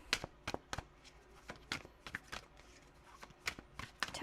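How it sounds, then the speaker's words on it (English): Doodle Tarot cards being shuffled in quick, repeated riffling bursts, close and fairly soft, with no talking. "let me give it one more shuffle"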